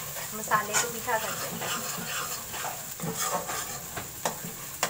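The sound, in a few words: onion masala frying in a pan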